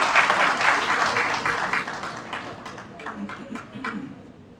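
An audience at a police performance awards ceremony in a Hyderabad hotel claps loudly at first, the applause thinning and fading over a few seconds with a voice speaking over it.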